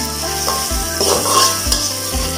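Dried shrimp stir-fried in a pan for seafood pad thai, a close, loud sizzle broken by repeated scraping strokes and dull knocks of the spatula against the pan.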